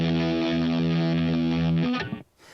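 Electric guitar played through a custom punk amp and effects setting in GarageBand, heavily distorted with a thick sustained chord ringing for about two seconds before cutting off abruptly.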